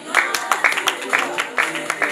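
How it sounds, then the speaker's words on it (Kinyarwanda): Guests at a Rwandan wedding clap in quick, rhythmic bursts, with voices audible in the background. "amashyi menshi"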